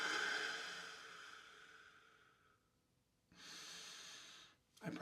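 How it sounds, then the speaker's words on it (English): Deep, airy breaths close to the microphone during a tapping practice: one long fading exhale, a pause, then another full breath and a short final one. "Deep breaths."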